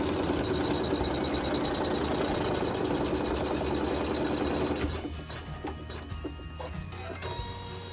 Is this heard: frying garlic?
no